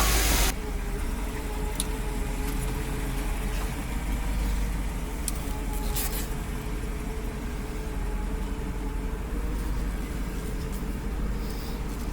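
The engine of a 1956 Cadillac Sedan DeVille, whose valve covers need re-tightening, runs steadily while driving, a continuous mid-low rumble heard from inside the car with a brief knock at the start and no talking.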